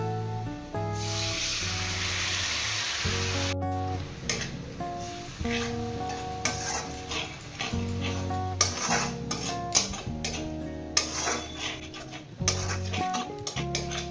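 Spices go into a pan with lightly browned onions and fry with a soft sizzle, under repeated clanks and scrapes of a spoon against the pan.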